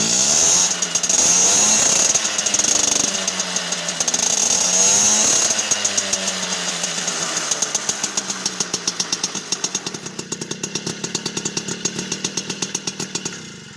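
An engine fitted with a Simonini serpentine exhaust pipe revs up, its buzzing, chainsaw-like note rising and falling through repeated throttle sweeps before settling into a rapid, even, knocking idle. It plays close and loud, without speech.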